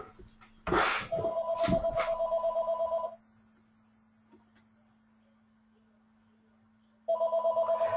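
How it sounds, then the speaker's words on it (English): A phone rings during a live webinar, two bursts of loud, rapid electronic trilling separated by a few seconds of quiet, with a steady low hum underneath. "my phone's ringing even though I had it turned off"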